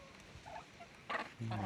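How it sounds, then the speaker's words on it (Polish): Turkeys, a tom and hens kept on a small farm, give brief warbling calls that grow louder toward the end, over quiet background noise. "Indyki, indyków jest trzy sztuki."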